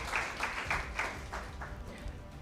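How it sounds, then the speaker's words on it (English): An audience at a national school debate competition gives a round of applause for a high school team, with moderately loud, steady clapping from a crowd and no speech over it. "a round of applause for Kangaru High School."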